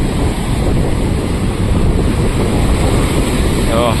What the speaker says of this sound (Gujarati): આ પાણી દરિયાનું પાણી સીધું અહીંયા આવે